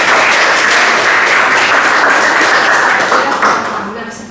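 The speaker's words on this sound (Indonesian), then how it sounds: "Oke, tepuk tangan untuk semuanya." Applause in a classroom during a teacher's lesson, a burst of clapping from students that stays fairly loud and then fades toward the end.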